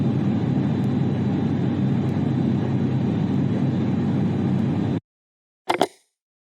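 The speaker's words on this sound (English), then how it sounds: "This is a passenger jet." A passenger jet airplane flies overhead with a steady, loud broadband roar held for about five seconds, then it cuts to silence and a brief separate burst follows.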